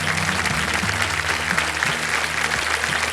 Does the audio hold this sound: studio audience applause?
yes